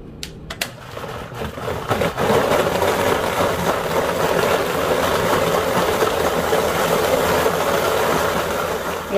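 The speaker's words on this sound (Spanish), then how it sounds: "Vamos a poner los chiles en la licuadora." A blender grinds softened chiles with a little water for enchiladas potosinas, a steady loud whirring roar that kicks in after a few brief clicks and runs evenly to the end.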